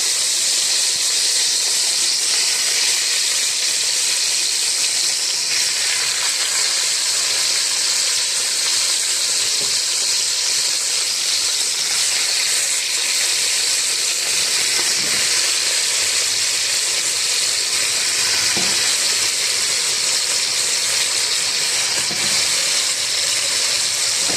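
Chunks of beef shank, about 1.25 kg, frying in a pot as the base for an okra tagine: a steady, loud broadband hiss and sizzle runs throughout, with a few faint clinks near the end.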